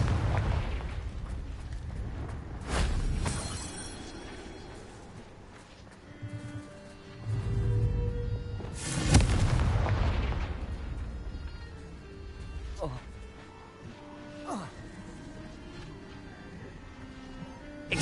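Confringo fire spell blasts in the Hogwarts Legacy video game: several booming, roaring explosions that swell and fade, the loudest around the middle, with smaller bursts and pops trailing after.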